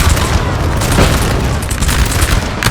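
Musket volleys from British line infantry in Napoleon: Total War during a multiplayer Waterloo battle, heard as a dense, continuous roar of overlapping gunfire and booms with no talk.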